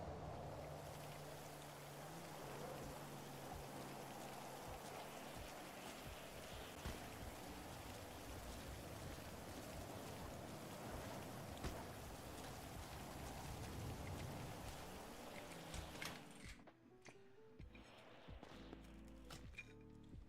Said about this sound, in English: Also, it's exceptionally loud out there with the rain.